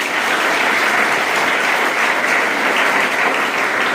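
Loud, dense audience applause at a residential high school event, a steady roar of many hands clapping continuously from start to finish, with no talk over it.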